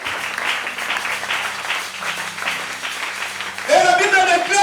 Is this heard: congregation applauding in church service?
yes